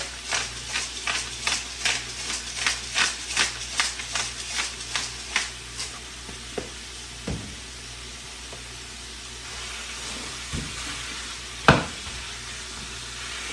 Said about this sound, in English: So I'm going to get this meat browned